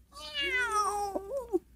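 A cat gives one drawn-out, close meow that bends in pitch, ending in a couple of short chirpy sounds, with no talking.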